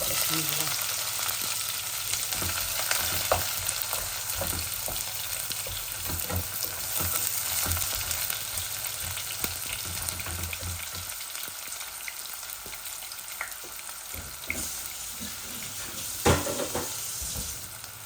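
Onion frying in a pan with dried fish and shrimp, a steady close sizzle with bursts of crackle and occasional stirring scrapes throughout.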